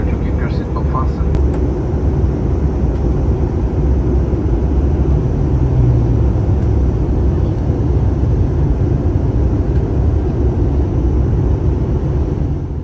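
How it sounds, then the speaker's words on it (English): Steady loud cabin roar inside a TAP Air Portugal Airbus A320 descending into Porto, a continuous low engine and airflow rumble with a cabin announcement voice running over it. "Now as we are already descending into Porto"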